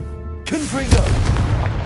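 Confringo fire blast spell in the Hogwarts Legacy video game, a sudden loud explosive burst that cuts in after a brief lead-in and then rumbles on, with a voice heard under it.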